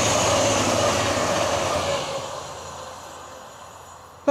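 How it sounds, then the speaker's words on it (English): A TransPennine Express train passes close by on the East Coast Main Line outdoors, a loud broadband rush and rumble that slowly fades as it moves away over a few seconds, ending with a brief knock. "there's a TPE train coming right now"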